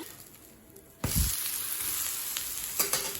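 Multigrain dosa sizzles in oil on a pan, a faint crackling fry that flares up after a quiet start and carries on with small pops.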